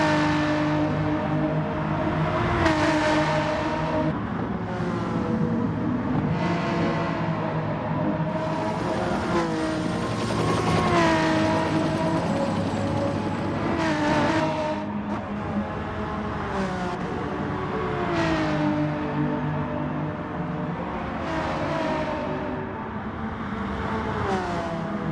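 Race cars in Gran Turismo Sport, several engines droning and revving together in a continuous loud layered whine with repeated gear-change swells, no talk.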